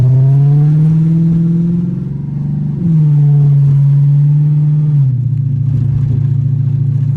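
A Chrysler 300 accelerates hard at full throttle, its engine roaring loud and close, pitch climbing then dropping at a gear change near the middle before pulling steadily again.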